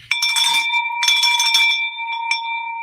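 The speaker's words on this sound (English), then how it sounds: "let's ring the bell, Matt." A hand bell is rung in an office to celebrate closing a real estate wholesaling deal, giving bright clanging strikes in two quick bursts with a ringing metallic tone that slowly fades, loud and close.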